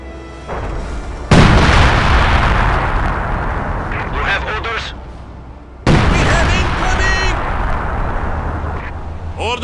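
Artillery fire in Company of Heroes at Stalingrad: two heavy, loud blasts with long rumbling decay and crackling debris, the second following a few seconds after the first.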